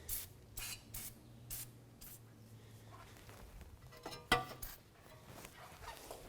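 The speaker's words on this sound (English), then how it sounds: "spray some rust penetrant on the front side of the threads" Rust penetrant sprayed from an aerosol can onto the threads of wheel hub bolts on a 2005–2016 Toyota RAV4, heard as several short, quiet hissing bursts with a slightly louder burst near the end.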